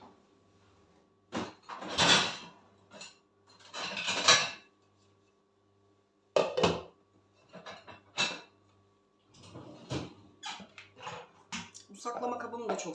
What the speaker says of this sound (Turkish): Şu yıkanan bulaşıklarımı da yerleştirmek istiyorum.